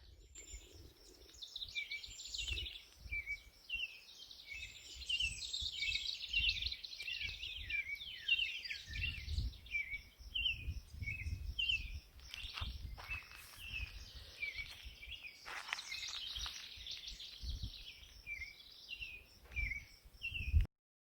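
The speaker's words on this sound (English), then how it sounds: "Listen to the birds." Birds sing outdoors in the Nebraska Sandhills, a steady chorus of repeated bright chirps and trills at moderate distance, with low rustling and soft thumps underneath.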